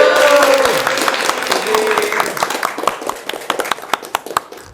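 An audience applauds at a training workshop. Dense clapping at the start thins out into scattered individual claps toward the end, with some voices mixed in.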